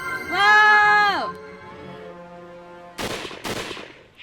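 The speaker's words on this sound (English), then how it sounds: "a loud bang rang from his rifle" Rifle shot in the Hakuoki visual novel game, two sharp loud broadband bangs about half a second apart near the end, following a long harmonic shriek-like cry at the start.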